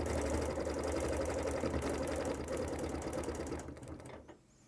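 A sewing machine stitches through a quilt with a fast, steady mechanical whir and needle clatter, running continuously up close before slowing and stopping at the end.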